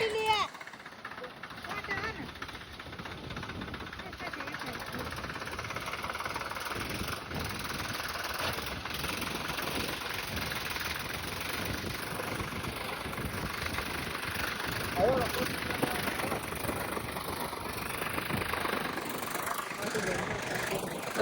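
A steady tractor engine idles continuously throughout, a low constant rumble with a voice talking over it now and then.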